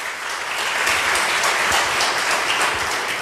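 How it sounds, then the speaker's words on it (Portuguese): A church congregation at a worship service applauds loudly and forcefully, a dense, steady wash of clapping filling the hall from start to finish. "Se é para aplaudir, aplauda com força."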